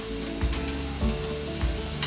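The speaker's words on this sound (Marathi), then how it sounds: "तर आपलं तेल तापलंय, बरं. तर मी कांदा फोडणीला घालतोय." Chopped onion sizzles in hot oil as it is tempered for a Malvani fish curry. The frying is steady and close, with soft periodic stirring scrapes under the crackle.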